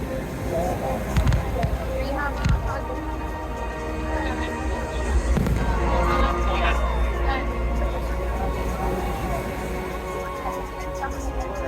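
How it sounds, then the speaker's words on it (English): Distant fireworks pop and crackle at irregular intervals over a crowd murmur on the beach during the San Juan festival in Benalmádena, Spain, with people talking and a faint whistle rising amid the bursts. "watched the fireworks going up"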